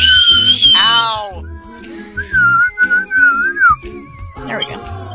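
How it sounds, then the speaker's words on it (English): A person who says they cannot whistle attempts it, producing wavering, breathy whistled tones that slide up and down in pitch, close and fairly loud, with brief vocal sounds mixed in. "I can't whistle. I've never learned how to whistle."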